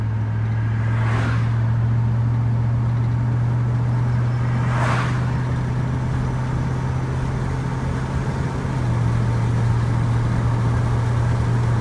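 A steady engine drone and road rumble fill the whole stretch, with two brief whooshes of passing traffic, heard from inside a car driving on a highway at about 55 to 60 miles an hour.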